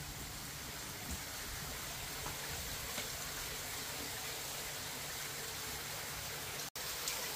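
Water flowing steadily in a villa backyard, a constant broadband rushing hiss at low level, with one sharp brief click near the end.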